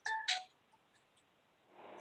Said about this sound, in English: I did not turn off my phone